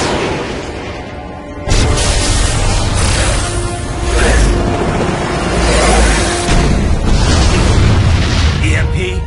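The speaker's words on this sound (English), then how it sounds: "Missiles incoming!" Missile explosions in the Metal Gear Rising Revengeance video game hit as a loud, continuous barrage of heavy booms and rumbling blasts, with bursts rising and falling over several seconds.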